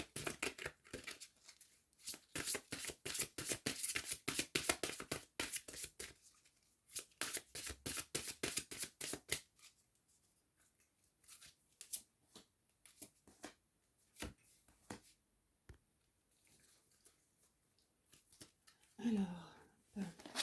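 Oracle cards being shuffled by hand during a tarot-style reading, a fast run of crisp riffling snaps that thins into sparse scattered flicks and taps, close and soft, with a brief voice near the end.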